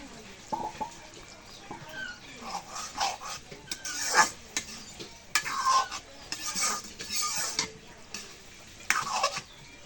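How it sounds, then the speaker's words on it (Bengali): Leafy greens stirred in a cooking pot, with scraping and clinking strokes of a utensil against the metal coming in irregular bursts, close and fairly clear. "এখন শাকটা নাড়া দেই"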